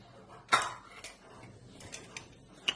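A metal lid is set onto a cooking pot of chicken for Manchow soup, giving one loud clanking hit followed by a few lighter clinks and taps, close and otherwise quiet.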